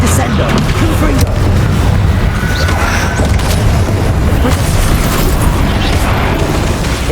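Confringo explosion spell cast in Hogwarts Legacy combat: dense, continuous booming blasts with rumbling low end and bursts of crackle, loud throughout amid layered game battle noise.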